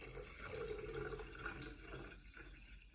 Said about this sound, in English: you're gonna fill the water up to just at the top of the leaf